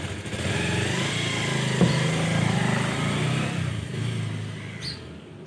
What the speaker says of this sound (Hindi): बाइक का आवाज़ हो रहा